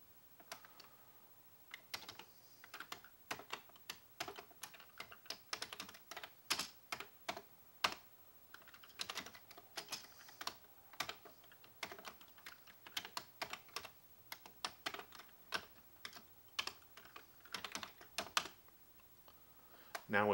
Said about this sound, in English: we're going to use our back arrow key on the upper left hand side of the keyboard